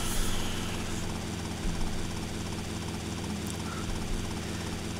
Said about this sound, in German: das ist total unauffällig, wenn hier so der Heli extrem tief da mitfliegt